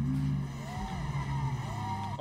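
A Lamborghini Aventador with a V12 engine in the Roblox game Drive World hums at a steady low idle-like drone, with two brief rising and falling engine sweeps over it, fairly quiet and close.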